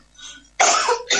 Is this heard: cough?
yes